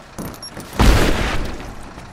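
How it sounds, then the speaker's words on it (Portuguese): A grenade explodes in the video game Rise of the Tomb Raider: one sudden, loud, deep boom that rumbles and fades over about a second, heard on its own. "Granada."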